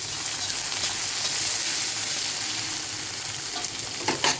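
Vegetables hit hot ghee for fried rice, a loud, dense, continuous sizzle close by that ends in a few stirring scrapes, with no talking.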